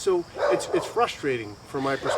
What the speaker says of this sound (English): That's my dog barking out front there